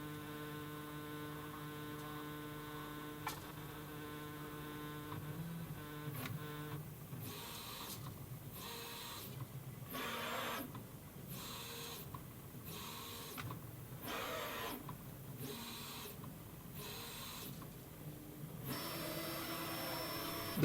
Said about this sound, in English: During the leveling, the height of the print bed is measured at 9 different points.